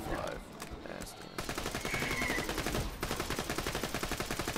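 Bursts of rapid gunfire from a Borderlands 2 side mission, repeated in quick rhythmic volleys at moderate level with game sound beneath.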